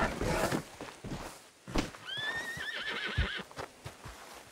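A horse in a Wild West video game whinnies loudly over the steady clip-clop of its hooves on a town street, with game sounds around it.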